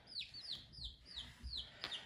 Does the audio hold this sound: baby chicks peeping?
yes